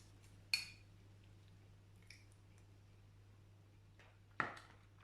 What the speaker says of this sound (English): I'm just going to mix some of it in.